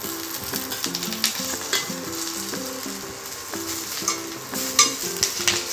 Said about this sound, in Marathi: आपला कढीपत्ता आता खरपूस मंद आचेवर भाजला गेलेला आहे।